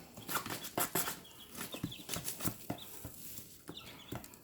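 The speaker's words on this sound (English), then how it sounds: "So you can probably hear a lot of scratching going on. Chickens love to scratch." Chickens scratch and scuff at the ground nearby in irregular bursts of rustling, with soft clucks and movement mixed in.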